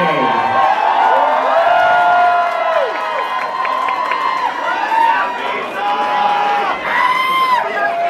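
Audience applause and cheering at a live drag performance semi-final event in Calgary, with a crowd roaring and whooping continuously while an amplified announcer talks over it.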